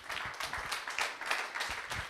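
Audience applause at a Lions International Leo leadership training event in Uganda: a steady patter of many hands clapping together, moderately loud and sustained without a break.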